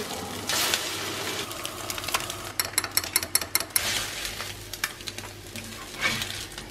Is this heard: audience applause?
no